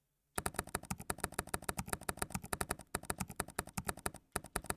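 Fast typing on a computer keyboard, a rapid, steady stream of close, crisp key clicks that starts abruptly and runs throughout with no voices.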